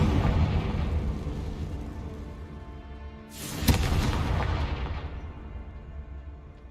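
An explosive Confringo spell blast in the video game Hogwarts Legacy: a low rumbling bed breaks into one sharp, bright burst, then a roaring blast that fades away over a few seconds, with no talk.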